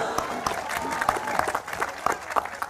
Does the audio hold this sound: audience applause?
yes